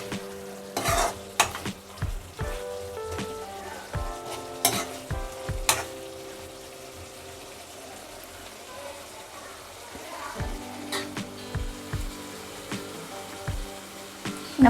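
Squid pieces frying Mangalore style in a pan, with steady sizzling under repeated sharp scrapes and clanks of a spoon stirring against the pan, close up, and no talking.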